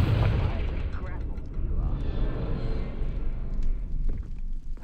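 A Confringo fire spell explodes in Hogwarts Legacy. A loud burst opens the sound, followed by a crackling, rumbling blast that trails off, with busy game noise underneath.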